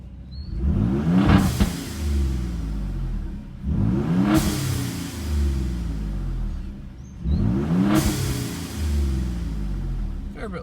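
Three strong revs from a car fitted with aFe equal-length catless downpipes, heard from inside with the windows open: each rises sharply and falls away, evenly spaced about three seconds apart, loud over a steady idle.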